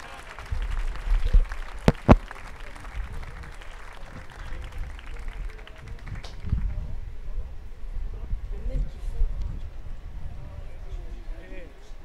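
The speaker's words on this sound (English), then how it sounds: "give these athletes a round of applause" Spectators at a world university rowing championship applaud the athletes outdoors, the clapping moderately distant and uneven, with a couple of sharp knocks and a commentator's voice over the crowd.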